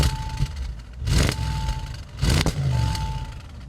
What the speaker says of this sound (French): Donne-moi donc un petit coup de gaz, voir comment ça sonne.